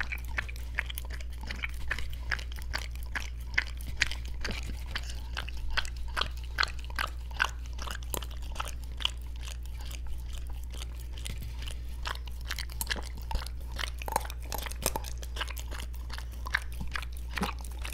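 A dog named Moose chews and crunches a peanut butter snack up close, with rapid, repeated crunchy bites and smacking in an irregular rhythm over a quiet low background hum.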